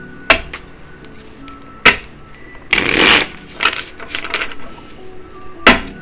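Dungeons and Dragons tarot cards being shuffled and handled, with sharp riffle bursts and a longer shuffle in the middle, close and fairly loud with little talk.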